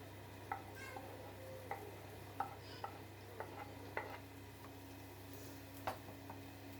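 Capsicum and mushrooms are stirred and fried in a pan, with soft, irregular spatula taps and scrapes over a quiet, low sizzle and a steady background hum.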